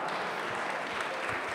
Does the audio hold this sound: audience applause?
yes